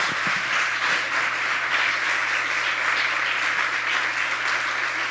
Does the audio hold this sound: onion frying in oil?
no